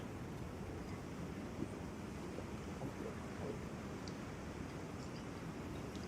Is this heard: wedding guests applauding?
no